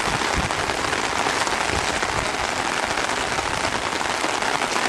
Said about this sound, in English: I'm going to show you how much saturation we got from rain here.